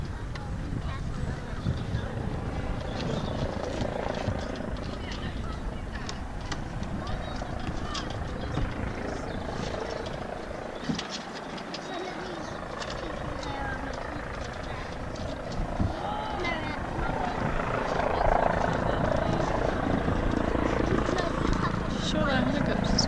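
Helicopter flying near a sailboat, a steady low rotor drone with wind buffeting the microphone that continues throughout, under intermittent talk.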